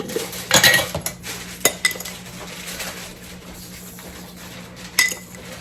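Ingredients, including instant yeast, are mixed in a mixing bowl for bagel and bun dough, giving a few sharp utensil clinks and scrapes against the bowl amid quieter stirring, close and moderately loud.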